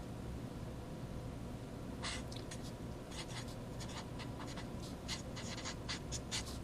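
A pen scratches across paper in short strokes, writing out a quotient rule derivation. The strokes are faint and close over a steady hiss of background noise, and no voice is heard.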